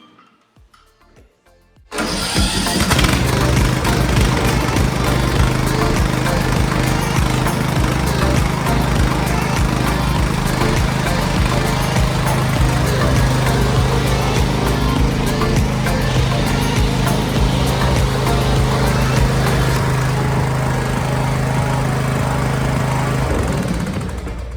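A riding lawn mower being rebuilt, started on a freshly fitted battery: after a short quiet moment the engine catches abruptly and runs steadily and loudly at close range, a dense rumbling drone that holds for over twenty seconds.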